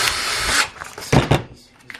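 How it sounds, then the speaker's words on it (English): A power drill bores through a fitting by a small nut fixing, giving a loud, close whir for about half a second, then a few short knocks and rattles. "Just drill that through there."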